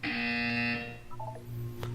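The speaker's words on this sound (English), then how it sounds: "You will hear a buzzer." A harsh electronic buzzer sounds in an Aperture Science test chamber from the Portal game, one loud steady tone lasting under a second, followed by low machine hum and a few faint beeps.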